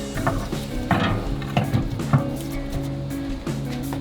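Metal grill grate set down over a ceramic plate setter on a grill, giving a few light metallic clanks and scrapes over a steady background hum.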